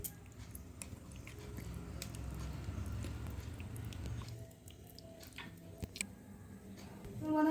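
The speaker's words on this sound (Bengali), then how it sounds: "আমি লেবুর রসটা মাখিয়ে নেব।" Lemon juice worked into mango kasundi by mixing: soft, wet squishing and faint ticks, quiet and close, with a brief louder swell at the end.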